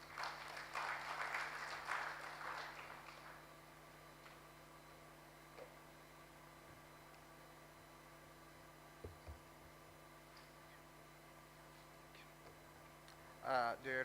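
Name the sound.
audience applause for the Permanent Secretary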